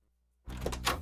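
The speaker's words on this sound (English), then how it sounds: "That's the sound of doors opening" A bakery door opens after a short silence, with a sudden soft whoosh and rattle that lasts about half a second, heard faintly and alone.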